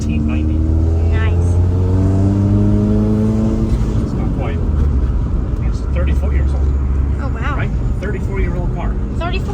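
A 1990 Honda CRX HF with a freshly swapped engine revs hard while spinning its tires, the engine note climbing and falling through repeated loud revs up close, with voices talking over the mechanical roar.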